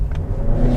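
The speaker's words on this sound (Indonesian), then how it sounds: "Plus raungannya khas banget mesin 1500cc." A Mazda 1500cc petrol engine revving as the car pulls away from about 20 km/h in city driving, a steady close mid-pitched drone rising slightly in a short burst, with no talking.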